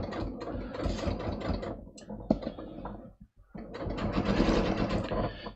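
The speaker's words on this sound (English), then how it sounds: "And I am just going to start stitching." A sewing machine runs through trouser fabric in two loud, close bursts of fast mechanical clatter, separated by a brief stop near the middle.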